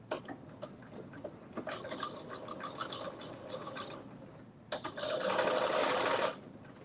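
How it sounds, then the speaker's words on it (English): A sewing machine runs a straight stitch a quarter inch from the top edge of a Simplicity 9844 garment, whirring close by in several bursts with short pauses, the last burst steady and louder. "I'm going to do a stitch all the way across this top, and that stitch is 1/4 of an inch from the edge"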